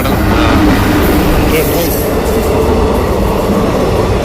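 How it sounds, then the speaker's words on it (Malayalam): A train passes at night along a railway track, heading from north to south, with a steady, loud rumble of wheels and cars rolling continuously and close by, and a faint high squeal over it. "ട്രെയിൻ കടന്നു വന്ന വീഡിയോ ആണ് നമ്മളെ കാണുന്നത്."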